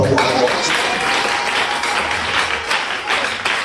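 Church congregation applauding and cheering at a gathering, a dense steady wash of clapping that holds throughout, with voices mixed in.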